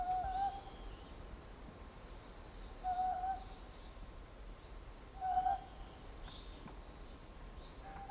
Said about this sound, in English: The distinctive whistle-like shriek of the mountain Scops owl is often heard resonating through valleys at night.